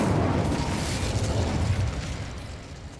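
An Incendio fire spell is cast in Hogwarts Legacy, a loud rumbling burst of flame with a crackling roar that slowly fades over a few seconds, no speech.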